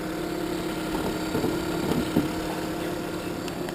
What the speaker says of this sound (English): We have it running here for you so you can hear it's running perfectly smooth.